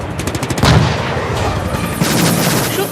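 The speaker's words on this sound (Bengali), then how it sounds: "ভারত চীন দু দেশের সেনাই শূন্যে গুলি চালায়" Gunfire near Pangong Lake in Ladakh, where troops fired shots into the air: a rapid burst of loud cracks followed by a heavier blast and sustained rolling reports, dense and continuous with no talk.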